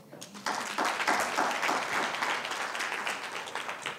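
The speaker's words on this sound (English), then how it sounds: "Please give a round of applause, a rousing one, to your wonderful selves." Lecture audience applauding at an annual financial-sector lecture in Kenya, a dense, steady wash of many hands clapping that swells after a brief start and holds evenly throughout.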